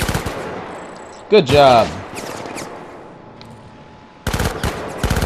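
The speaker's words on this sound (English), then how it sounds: "that gun's called the Riot Lance" Riot Lance weapon fire in the Syndicate video game comes in two short, loud rapid bursts separated by quieter stretches, with a brief spoken line between them.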